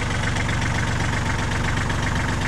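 A pickup truck engine idles close by, giving a loud, steady, evenly pulsing mechanical drone for the whole stretch with no voices.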